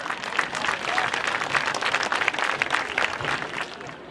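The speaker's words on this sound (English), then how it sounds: "Big round of applause." Steady applause from a crowd at a high school varsity football senior night fills the whole stretch, dense and continuous with no voices standing out.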